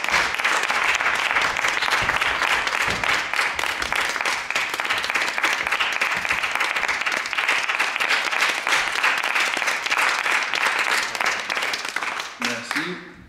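An audience at a spoken-word performance night gives loud, sustained applause that carries on steadily before fading out at the end.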